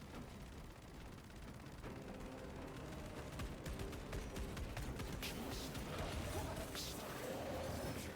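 Bombardment in the game Space Marine II brings a rapid barrage of sharp impacts and crackling blasts, dense and irregular, with people talking over the battle.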